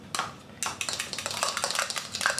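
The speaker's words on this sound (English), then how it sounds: "we're going to whisk that up just so we can use it to bind the beef burgers" An egg gets whisked with a fork in a bowl to make a binder for beef burgers: quick, irregular clicking and scraping of metal against the bowl in close, busy bursts, with no talking.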